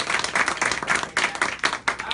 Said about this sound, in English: Please give another round of applause to all of you.